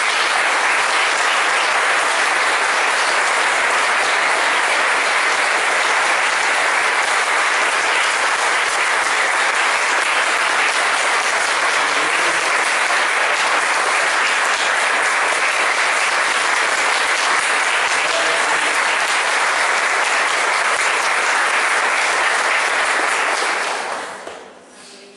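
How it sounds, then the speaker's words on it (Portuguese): Church congregation applauding together, a dense, loud, steady wash of clapping that holds for over twenty seconds before fading out at the end. "Dê um aplauso ao Senhor."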